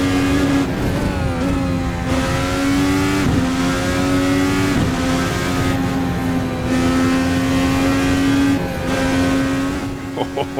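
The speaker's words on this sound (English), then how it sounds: "Our first open wheeler now. It is Indy Car time." An Indy Car open-wheeler engine in a racing video game, loud and continuous, revving up and down through gear changes, its whining pitch rising and falling.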